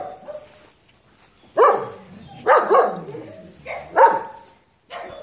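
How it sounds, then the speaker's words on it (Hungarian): A dog gives several short barks and yips in bursts, close by and moderately loud, with brief pauses between them and a little human speech around the barking. "Egy határozott gazda mellett abszolút egy szuper kutya lehet belőle."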